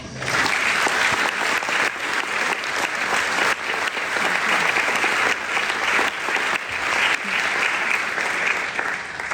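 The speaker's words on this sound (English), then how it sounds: "Let's have a round of applause for hope and love." Warm, sustained applause fills the room at the Kids Cancer Centre's 60-year celebration dinner in Sydney, a crowd clapping steadily and loudly throughout with no speech over it.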